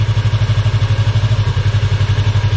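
A motorcycle engine idles with a steady low throbbing pulse, close and moderately loud, as a beginner rider slowly releases the clutch and begins to move off.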